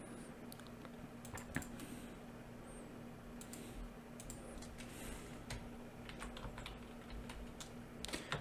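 Typing on a computer keyboard while working in Corel Draw, a steady run of quiet, irregular key clicks over a low electrical hum, close and alone with no talking.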